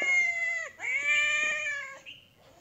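A cat meows clearly and close by, two drawn-out calls followed by a short chirp, with no other sound around them.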